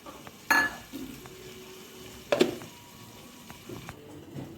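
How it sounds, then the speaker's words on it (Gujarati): A spoon scrapes twice through a gunda (glue berry) curry in a pan on a gas stove, sharp scraping bursts over a faint continuous sizzle, with a few light taps between. "વચ્ચે વચ્ચે આપણે આવી રીતે થોડીક વારે હલાવતા રહીશું એટલે ગુંદા આપણા સરસ સડી જાય"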